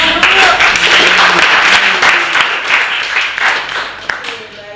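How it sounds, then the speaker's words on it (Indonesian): Audience applause for student presenters at a culinary small-business research session, a dense wash of clapping filling the room for most of the stretch and thinning toward the end, with some voices mixed in. "Kita beri tepuk tangan dulu."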